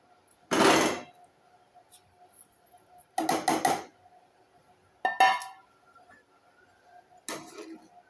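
A utensil stirs vermicelli in milk in a cooking pot, giving four short clinking, scraping bursts spaced a couple of seconds apart over a quiet, faint hum.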